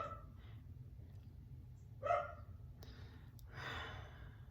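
A dog barks a few times somewhere in the background of a quiet indoor room, the yaps faint and spaced apart, with a brief whimper-like sound among them.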